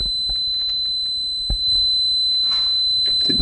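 A fire alarm sounds in a prison, a steady high electronic tone running unbroken through the clip, with scattered thumps and rustles beneath it and no talk.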